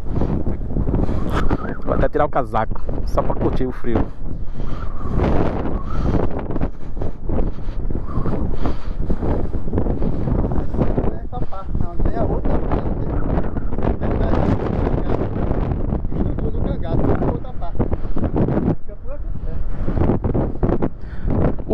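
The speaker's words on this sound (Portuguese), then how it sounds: "Tá ventando aqui, um ventinho geladinho." Cold wind gusting on a rocky mountain trail to Pico do Papagaio, buffeting the microphone in a steady loud roar throughout while a person talks over it.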